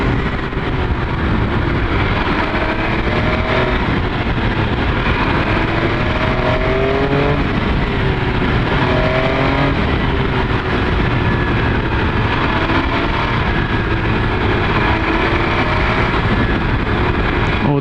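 An MV Agusta F3 RR sport motorcycle engine drones loudly and steadily while ridden off the highway, with rising and falling rev sweeps and continuous wind roar throughout and no pauses.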